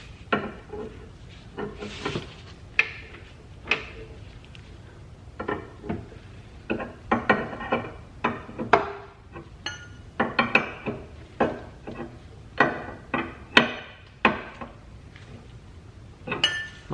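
Chassis brace bolts tightened with a 1-inch wrench, giving a steady run of close metallic clicks, clinks and taps, sharp and irregular, with no voices over them.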